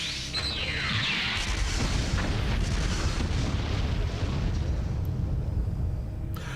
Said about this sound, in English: a tower that's in the center of their town just started shooting lasers at things